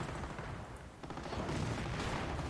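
Dense, rapid gunfire and booming shots in the World War II strategy game Company of Heroes, firing on a tank, keep up a constant loud, crackling barrage with no pauses.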